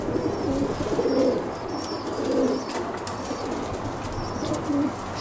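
Pigeons belonging to a breeder named Nikolas in Aigaleo, dark-plumaged birds, coo in low rounded phrases that repeat at a steady pace, close and clear, with faint chirps above and no talking.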